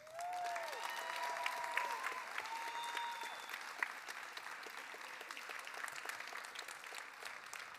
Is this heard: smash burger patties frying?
no